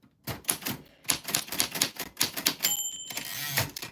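A 1949 typewriter typing names, with irregular bursts of sharp, close key strikes and a bell ring near the end.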